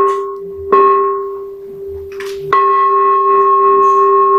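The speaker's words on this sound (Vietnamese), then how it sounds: "Thí dụ mình thỉnh chuông cho Phật tử lễ Phật á" A Buddhist temple bell rings to signal worshippers to bow before the Buddha. Two clear, resonant strikes land about two seconds apart, each leaving a long, sustained ringing tone, with faint background noise and no speech.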